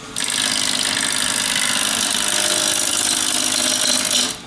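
A woodturning gouge with an Ellsworth grind cuts wood on a spinning lathe while shaping a triangular box, giving a steady, close, unbroken hissing rasp for about four seconds before stopping.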